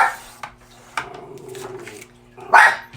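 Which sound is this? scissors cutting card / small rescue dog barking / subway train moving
small rescue dog barking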